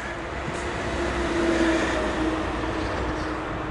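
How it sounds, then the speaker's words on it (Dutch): A small tourist train rolls through the streets of a fortified Dutch town, its steady low rumble and faint squeal holding at moderate distance for a few seconds, with no talking over it. "Nou, een treintje, zie je?"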